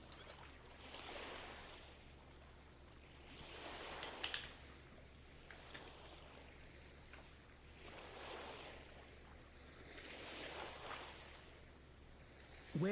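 Ocean waves from the video game Star Ocean: The Second Story R roll in and wash out in slow, regular surges every few seconds, soft and steady, with no voices.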